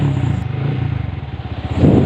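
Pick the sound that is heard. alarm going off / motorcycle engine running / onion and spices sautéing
motorcycle engine running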